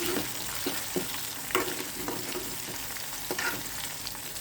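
Onion paste frying in oil with mustard seeds, cumin and green chilli while being stirred, a loud continuous sizzle broken by repeated scraping strokes of a spoon against the pan, alone without talk.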